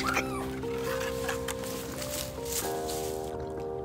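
A dog whimpers in high, wavering whines that shift in pitch, close by and fairly loud over background noise.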